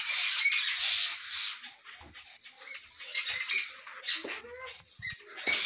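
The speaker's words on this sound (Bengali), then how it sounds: "দেখুন এখানে 4টা পাখি একসাথে কতক্ষণ যাবৎ ঝগড়া করছে" Four birds squabble together in a rural yard, with a run of sharp squawks and chattering calls that come in bursts over several seconds, fairly close and lively, with no talking.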